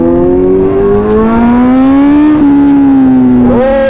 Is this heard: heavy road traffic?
yes